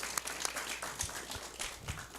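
A small audience at a community gathering with Islamic scholars in Banyuwangi gives sparse, scattered claps: faint, distant and irregular, with individual hand claps standing out over a quiet room.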